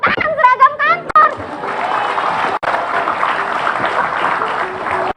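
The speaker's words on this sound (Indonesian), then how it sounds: "Tepuk tangan seragam kantor." Studio audience applauding on a live TV talk show: a voice speaks briefly at first, then a dense, steady burst of clapping from many hands fills the room for several seconds.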